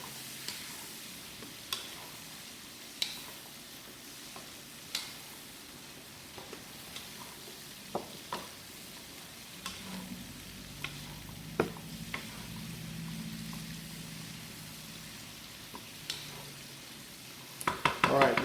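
Blanched green beans tossed in a pan with butter and garlic, sizzling softly under repeated clinks and scrapes of a utensil against the pan, with brief faint voice near the end.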